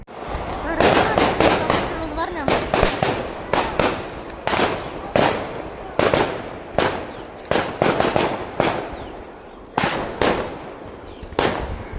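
Firecrackers burst at a Kerala temple on Shivaratri after the evening lamp ritual: a long, irregular barrage of loud, sharp cracks, sometimes in rapid clusters, close and dominant.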